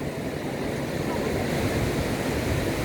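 Sea waves and surf at a beach roar in a steady, dense wash throughout, loud and close with no clear breaks between waves.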